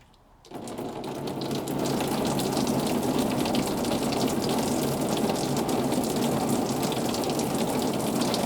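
Steady rushing, gushing water flows out of a Mercury 500 50hp Thunderbolt outboard motor, with a mechanical churning undertone, starting abruptly after a brief quiet moment and continuing at constant loudness.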